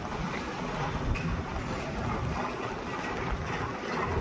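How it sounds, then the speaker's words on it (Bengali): Dense, steady hiss of heavy rain pouring down, a broad continuous wash of noise with no pauses and no voices. "এত পরিমাণে বৃষ্টি"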